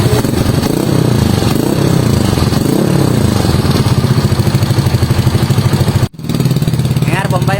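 A motorcycle engine fitted with a Villain GP2 carbon exhaust runs without its silencer, producing a loud, raw, close-up idle with a throbbing rhythm, a few revs, and a brief cut near the end.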